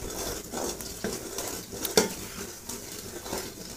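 Spoon stirring garam masala, black pepper, dried coriander, cinnamon and black cardamom into haleem in a pot, a steady soft scraping with light metallic clinks and a sharper knock near the middle, no voices.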